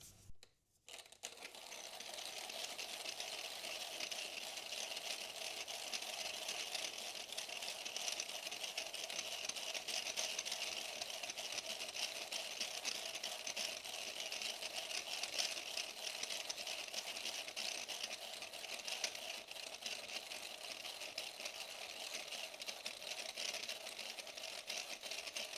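A Timemore Millab M01 hand grinder crushes coffee beans in a steady, continuous gritty whirr that runs unbroken at an even level for the whole stretch, with no talking over it.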